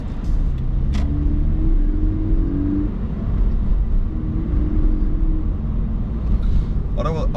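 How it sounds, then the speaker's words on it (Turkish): A Subaru BRZ's engine rumbles loudly and continuously from inside the car, with low drone from its stock exhaust rising and falling as it drives. "arabanın stok egzozu bile çok fazla ses çıkartıyor"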